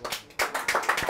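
Scattered, quick applause from a small group, a rapid run of overlapping claps at moderate volume, close and slightly muffled, with no voices over it.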